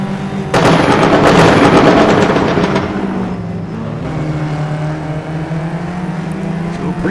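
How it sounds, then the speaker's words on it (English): Race cars at Laguna Seca roar past, a loud burst of engine noise swelling quickly then easing into a sustained droning engine note that fades slightly toward the end. "We could probably turn up the engine sounds a little bit"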